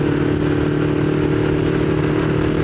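A motorcycle on a long ride rumbles steadily, its engine drone constant and close alongside a broad rush of road and wind noise, with no one speaking.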